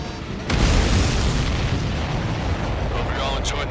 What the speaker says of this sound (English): you see that explosion?